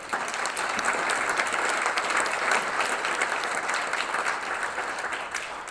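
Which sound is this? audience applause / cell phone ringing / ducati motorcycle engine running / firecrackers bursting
audience applause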